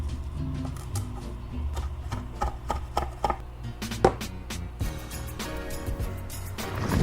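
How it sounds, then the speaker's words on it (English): Steady knife chopping of fresh parsley on a board, a run of crisp, close taps in an irregular quick rhythm over a low kitchen hum, growing denser toward the end. "I'm gonna chop up some parsley, just for a little extra garnish on top."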